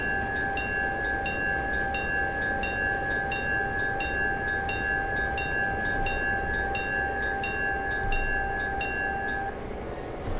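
Passenger train passing in the railroad game Railroader, a steady rolling rumble with a sustained whistle-like tone and regular clanking beats, continuous for several seconds before fading slightly at the end.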